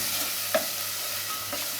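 Chopped onions frying in plenty of oil, a soft continuous sizzle with a few brief spoon clinks and scrapes, close and fairly quiet, no voices.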